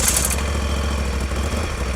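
A motorcycle engine runs close by with a steady, loud rumbling idle and a brief burst of higher rattling at the start, with no voices.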